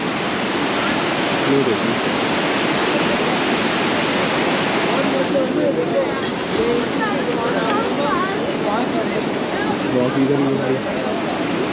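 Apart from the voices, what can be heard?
fast-flowing river water at Manikaran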